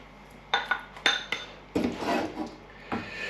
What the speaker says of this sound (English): Now we can put it in a bowl and try it.